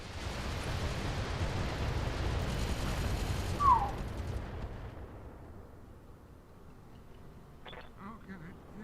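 Gunfire and blasts in BattleTech, a dense rumbling barrage of shots and explosions that fades after the midpoint into a quieter tail with scattered hits; speech is likely mixed in.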